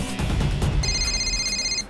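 A phone rings with an electronic ringtone from about the midpoint, steady and moderately close over low background rumble and noise inside a moving car, no one speaking during the ringing.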